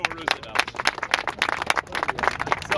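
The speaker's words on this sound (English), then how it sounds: "Let's give a round of applause to Theodore Roosevelt." A crowd gathered around an outdoor soapbox speaker at Speakers' Corner gives a short round of applause, with dense, irregular clapping that rises and falls under some voices.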